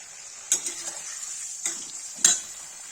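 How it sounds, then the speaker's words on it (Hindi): Bottle gourd frying in a pan with a steady sizzle and three sharp clinks of a utensil against the pan as it is stirred, close and fairly loud, with no talking. "गाइस देखिए लौकी फ्राई होगी"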